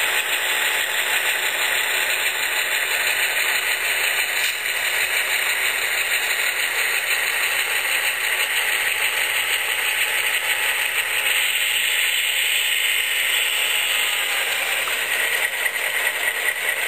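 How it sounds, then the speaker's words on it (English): An Athearn Genesis HO scale FP7 model diesel locomotive runs with its sound-equipped engine and generator, giving a steady hissing, rattling drone that continues evenly throughout without any talk. "changes in the sound of the engine and the generators as it comes to a stop"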